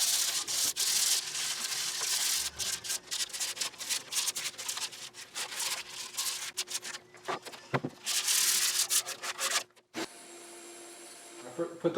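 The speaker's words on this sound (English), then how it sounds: "I'm going to do a quick scuff sanding over the whole thing with 320 grit sandpaper." Hand scuff-sanding of an outdoor side table with 320 grit sandpaper before spraying, rapid close rubbing strokes in uneven bursts with brief pauses, ending in a quieter stretch.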